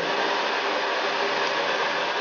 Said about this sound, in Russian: Немножечко мы поэксплуатировали фен, убедились, что с ним все в порядке